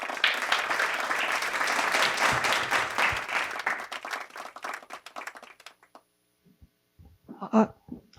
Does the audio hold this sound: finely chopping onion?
no